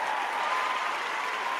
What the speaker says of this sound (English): I have a different sound for my applause than there's like more cheering.